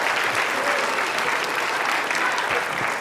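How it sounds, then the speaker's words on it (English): A comedy club audience applauds at a stand-up show, steady dense clapping filling the room for the whole stretch, loud and close, with no talk over it. "What are we clapping for?"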